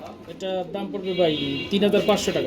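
Pigeons coo at a busy pigeon sale, faint and partly buried beneath close, steady talk between buyer and seller.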